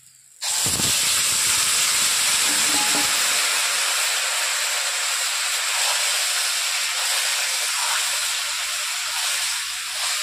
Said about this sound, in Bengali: লাউ কষাটা কড়াই মরিচটার সঙ্গে দিয়ে দেবো।